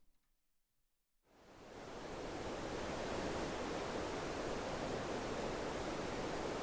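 Green noise fades in after about a second of near silence and swells into a steady, even broadband rush like distant surf or a waterfall, holding constant and moderately loud.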